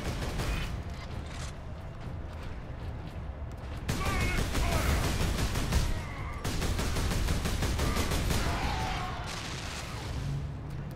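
Sustained heavy weapon fire in the Warhammer game Space Marine, including a Chaos lascannon: a dense, roaring wash of shots and blasts that runs almost without pause, loud, with a sharp break and restart partway through.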